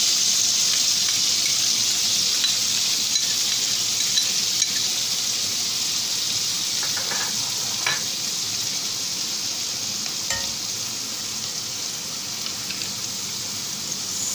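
Chopped coriander sizzling in heated butter, a steady bright hiss of frying that holds without break, with a few faint clicks and stirs from the pan.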